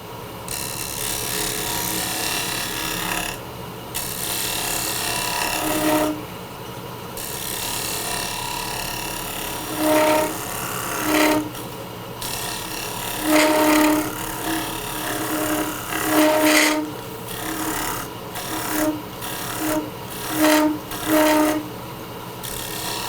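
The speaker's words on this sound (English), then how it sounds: "So I'm going to come in with a big scraper here and we're going to clean it up even more." A big scraper cuts a wooden bowl spinning on a lathe, a loud continuous tearing hiss broken by short gaps and bursts of tonal squealing as the tool bites and lifts repeatedly.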